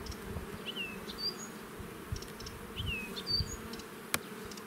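Honeybees swarm around an opened hive while a beekeeper transfers the colony to another hive, prying apart the glued frames with a chisel. A soft, steady, low buzz fills the whole clip, with occasional faint, high chirps above it.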